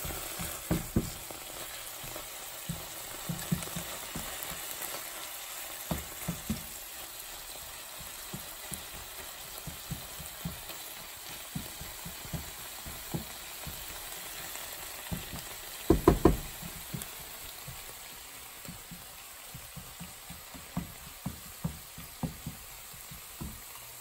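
Squid and kimchi stir-fry in a pan with a continuous sizzle, and scattered knocks and scrapes from stirring come through now and then, with a louder clatter near the middle.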